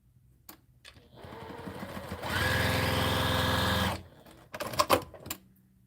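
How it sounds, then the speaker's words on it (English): A straight stitch sewing machine runs while piecing fabric at home, starting with a light whir, then a steady loud motor hum for about two seconds before stopping, followed by a few clicks and handling noises. "I sew it at home on a straight stitch machine for piecing."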